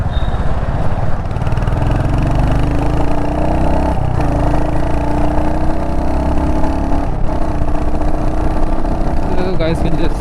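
A 2022 Royal Enfield Hunter 350 motorcycle engine thumps loudly up close, its pitch rising and falling gently as it rides slowly along, with a voice talking faintly underneath.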